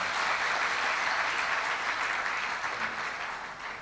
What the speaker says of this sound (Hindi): एक बार जोरदार ताली बजाइए और पता लगे।